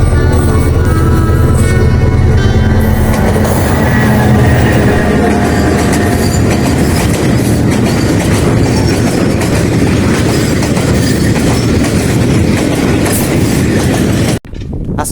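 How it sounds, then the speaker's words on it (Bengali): A freight train at Gunabati, Chauddagram, in Comilla rolls past close by with a loud, continuous rumble and clatter of wagons that holds steady, then cuts off sharply near the end. "এটা হচ্ছে মালবাহী ট্রেন"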